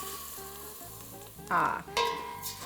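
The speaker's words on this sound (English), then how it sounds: "Keep stirring our rice and let basically the oil surround our rice grains" Rice grains toasting in oil for a sweet pea risotto sizzle softly in the pan, broken by two louder bursts of stirring scrapes near the end.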